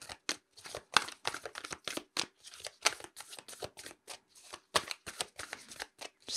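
Animal spirit cards being shuffled by hand in a tarot-style reading, a close, steady run of crisp riffling slaps and rustles at an irregular rhythm, with no talking.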